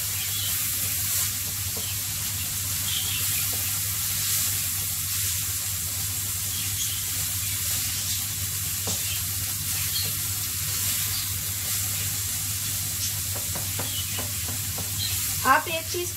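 Finely chopped onions cook in an open pan, giving a steady close sizzle and hiss with occasional stirring scrapes toward the end, with no one talking.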